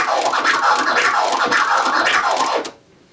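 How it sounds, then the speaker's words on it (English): Turntable scratching in a twiddle orbit pattern with tightly spaced clicks: rapid, continuous back-and-forth scratch strokes, loud and close, cutting off sharply near the end, with no talking. "The clicks can be spaced much closer together and sound like."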